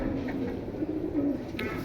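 Caged pigeons for sale coo faintly and continuously, low and slightly muffled against a steady background hum.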